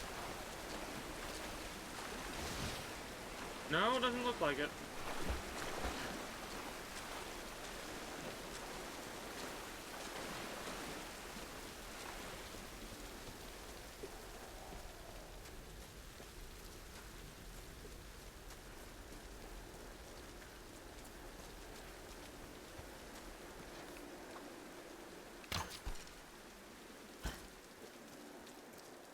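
Steady rushing waterfall in the Tomb Raider video game, a broad continuous wash of falling water heard close and fairly loud, with a brief spoken remark over it early on.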